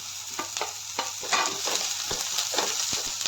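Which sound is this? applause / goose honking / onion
onion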